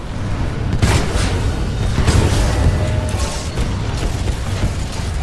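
Mortar titans barrage a harvester in the Titanfall 2 video game, a steady loud roar of booming impacts and bursts with no talk.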